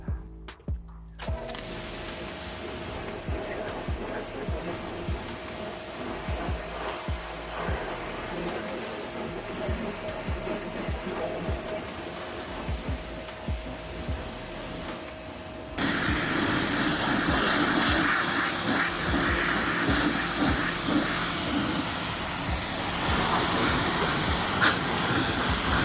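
An electric pressure washer with a green 25-degree tip rinses a surface, a steady loud hissing spray with a motor hum beneath that grows fuller and harsher partway through, with no talking.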